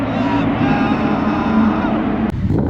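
Audi S6 with automatic transmission cruising on a freeway, a loud steady engine drone mixed with road and wind rush, continuous for nearly three seconds.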